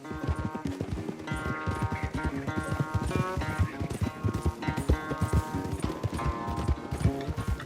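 Horses gallop side by side in a race in Red Dead Redemption 2, a rapid, close, loud clatter of hoofbeats with rhythmic thuds over a background musical score, with no talking.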